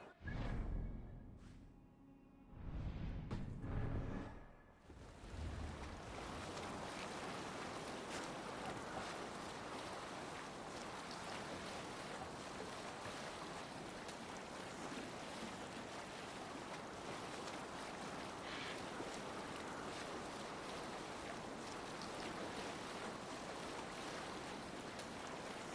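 A sailing ship out at sea in Assassin's Creed Valhalla: a steady, unbroken wash of waves and wind carries on for the whole stretch, after a short, louder burst of activity at the start.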